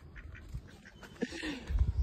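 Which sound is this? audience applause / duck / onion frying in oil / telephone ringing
duck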